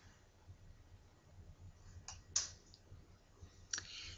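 Several faint, sparse clicks from a computer mouse sit over a quiet background hum, spaced out over a few seconds with no one speaking.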